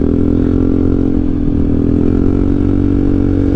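Yamaha X-Max scooter engine running steadily while riding, a loud continuous low drone with constant mid-pitched hum and road rumble, close up and without pause, no talking.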